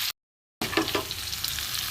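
Potatoes and pointed gourd (potol) fry in a pan with a steady broadband sizzle that resumes after a brief silent gap, with a few soft stirring scrapes near the start.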